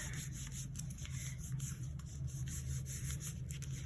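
A stamped paper card, flipped face down, gets a firm, continuous rub on its back, a soft, close scratchy swishing that keeps a steady rhythm for a few seconds with no voices.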